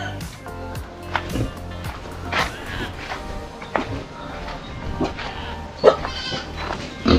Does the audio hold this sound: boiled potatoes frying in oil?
no